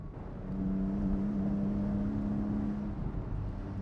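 Porsche 718 Boxster GTS 4.0 flat-six engine while driving; a steady, droning engine note that swells briefly and holds, heard from inside the car with no talking.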